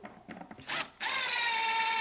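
A power drill drives a screw into a diagonal wall cabinet during assembly: a few short bursts, then a steady close whine that runs loud to the end.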